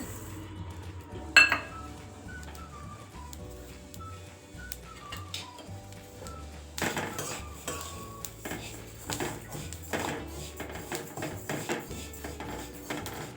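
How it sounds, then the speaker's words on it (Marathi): Sesame seeds dry-roast in a pan over low heat, with soft scraping and clinking of a utensil stirring them throughout. A sharp clink is heard early on, and there is no speech. "आता आपण तीळ भाजून घेऊ"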